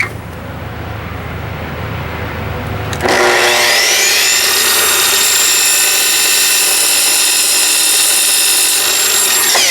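A power saw cuts a 45-degree miter in walnut molding, starting after a quiet stretch with a sudden loud, close, high whine that holds steady to the end.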